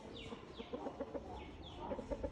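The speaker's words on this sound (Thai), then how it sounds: "แอบดูไก่กุ๊กกุ๊ก" Several soft, nearby hen clucks in short bursts, repeated in a loose rhythm over quiet background.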